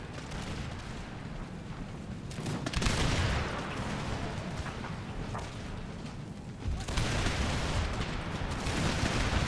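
Musket volleys in Empire: Total War from a charging battle, heard as continuous dense crackling gunfire rolling over the whole span, with heavier surges near three and seven seconds; no speech.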